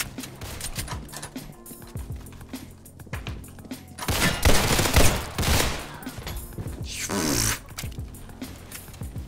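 Rapid gunfire in the Roblox game Criminality, bursts of pistol shots with a Beretta among the weapons, loud and close with dense overlapping cracks and no talk.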